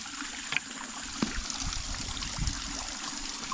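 Stream water trickles and burbles in a faint, continuous flow, quiet and steady with a few small splashy blips and no talking.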